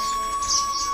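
A swallow chirps beside a cow shed on a farm, high thin calls repeating through the second over a steady background hum.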